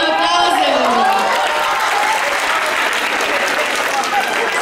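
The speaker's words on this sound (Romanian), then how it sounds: "Mulțumim, aplauze!" School freshman ball audience applauding a contestant in a high school hall, steady crowd clapping with a voice speaking over the opening seconds.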